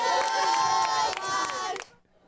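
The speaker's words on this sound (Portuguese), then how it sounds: "Aqui, cada lance é acompanhado de perto por uma torcida especial." Crowd of school students and parents cheering at a school sports match, a loud dense roar with excited shouts and children's voices that cuts off abruptly near the end.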